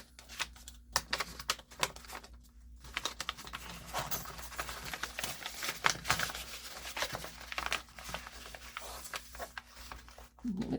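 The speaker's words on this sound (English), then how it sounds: "And I'm gonna cut this." Paper being cut for a handmade junk journal, giving a steady run of soft crisp snips and rustles close up, with brief quiet gaps and a quiet hum beneath.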